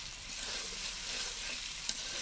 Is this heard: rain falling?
no